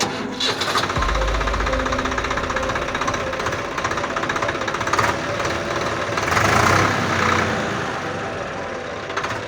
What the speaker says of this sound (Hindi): अब हम इसकी आवाज़ सुनते हैं कि जिस ट्रैक्टर ने इतना तहलका मचा के रखा है उसकी आवाज़ कैसी है।